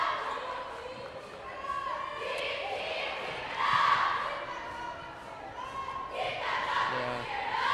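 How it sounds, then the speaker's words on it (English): Crowd noise fills a high school basketball game in the North Gym at Arcadia, with a cheer section shouting and cheering from the side while balls bounce on the court, a steady roar that swells around the middle of the clip. "It's getting loud here in the North Gym, as you can see our cheer on the side cheering on Arcadia."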